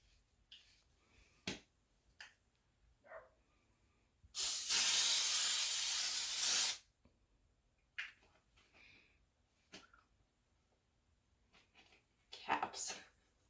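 Nonstick cooking oil sprayed from a can into a 9-inch baking pan, a single steady hiss of about two seconds, close and clear, with soft handling clicks and taps before and after.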